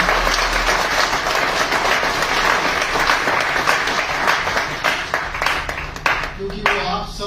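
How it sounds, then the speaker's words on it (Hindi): Loud crowd clapping at an awards ceremony in Udaipur, a dense steady burst of applause that thins and tapers off near the end as a voice begins to speak. "उन लोगों के लिए हम सब मिलकर एक तालियां बजाएं।"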